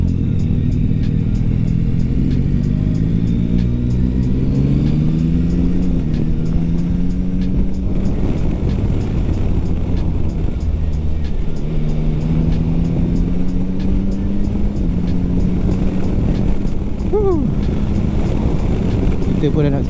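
Steady wind rush and engine drone from a 2021 Yamaha Tracer 9 GT motorcycle cruising at speed, loud and continuous with a low rising and falling engine tone throughout.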